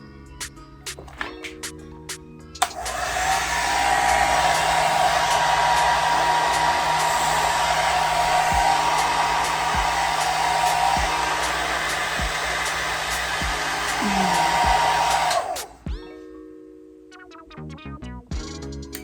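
A hair dryer on its cold setting blows over hair coated in paint wax, switching on with a sharp click into a loud, steady whooshing drone for about thirteen seconds before cutting off abruptly, with quieter handling clicks before and after.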